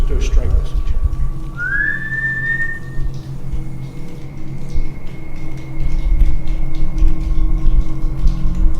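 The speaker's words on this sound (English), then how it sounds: "Just do a straight whistle" A single straight whistle in a railway tunnel, one steady tone that slides up briefly before holding level, echoing against a constant low rumbling hum, followed by a fainter lingering tone.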